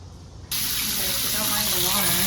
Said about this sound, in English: don't mind the water, so it won't turn off